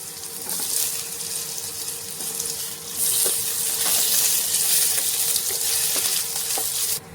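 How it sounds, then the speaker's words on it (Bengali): Sliced medium potatoes go into hot oil with tempered spices for a Bengali rohu fish curry with black cumin paste, and a close, steady sizzle and crackle follows, louder after the first few seconds, with occasional stirring clatter and no talk. "এবারে দিয়ে দেব এখানে আমি আলু, একটু লম্বা লম্বা করে আমি একটা মিডিয়াম সাইজের আলু কেটে রেখেছি।"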